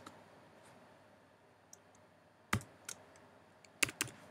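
Typing on a computer keyboard while entering a name into Google Sheets: a quiet stretch, then a few sharp key clicks in short irregular bursts, near and fairly faint, with no talking.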